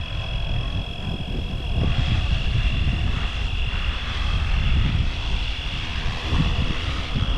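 A Fly Wing RC AirWolf model helicopter comes in to land outdoors, a close, steady, high-pitched motor whine with a constant tonal hum over gusty wind rumble, while someone talks intermittently.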